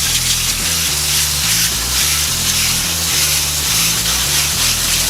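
Renewz foam cleaner sprays steadily onto the fins of an air-conditioning condenser coil, a loud, continuous hiss lasting the whole time, with music playing underneath.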